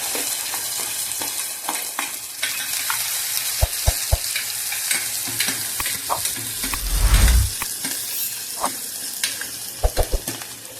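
Onion and green chili frying in oil in a pan, a continuous close sizzle broken by sharp clicks of a spatula stirring against the pan and a short louder rumble partway through.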